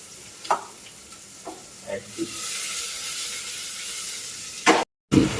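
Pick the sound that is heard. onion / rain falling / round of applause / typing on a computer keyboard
onion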